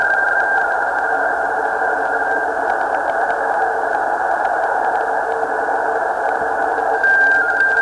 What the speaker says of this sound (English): there's a lot of noise on his signal.